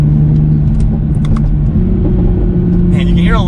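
Toyota Supra in sport mode, its engine droning and revving loudly from inside the cabin, with a few faint exhaust pops near the end and a voice talking over it.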